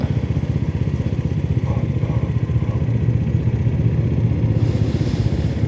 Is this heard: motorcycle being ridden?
yes